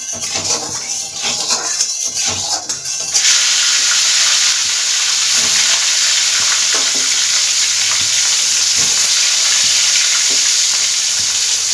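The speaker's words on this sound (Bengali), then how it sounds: "দু পিঠকেই লাল লাল করে ভেজে নেব মাছগুলো ভাজা হোক" Rohu carp sizzles loudly in hot salted oil, a dense steady hiss with occasional crackles, preceded by a few seconds of quieter frying and clatter.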